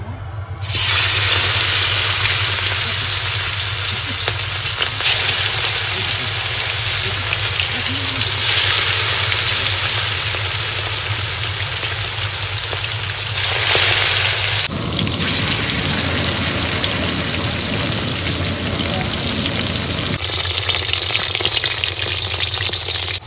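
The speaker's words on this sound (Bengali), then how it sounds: "বন্ধুরা তেল গরম হয়ে গেছে, এবার মাছগুলো ভেজে নেবো।" Fish frying in hot oil at an outdoor picnic, a loud, dense, continuous sizzle and spatter close up that surges and shifts in intensity over the long stretch, with no talking.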